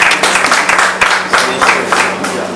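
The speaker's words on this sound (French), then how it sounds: "Voilà. Ça applaudit." An audience claps in a short burst of applause, dense and moderately loud throughout, fading slightly toward the end.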